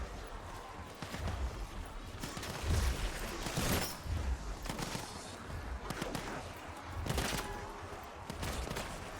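A turret fires in the Black Ops 7 Zombies video game, rapid bursts of gunfire with repeated sharp shots, moderately loud amid game noise.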